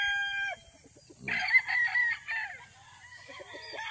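Chickens cluck and a rooster crows close by, loud bursts of calling broken by brief pauses against a quiet farmyard background.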